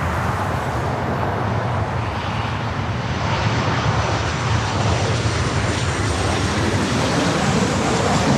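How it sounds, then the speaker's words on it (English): A United Airlines Boeing 787-9 Dreamliner arrives at LAX, its engines producing a loud, continuous broadband roar that holds steady throughout with no talk. "back-to-back United Dreamliners up next"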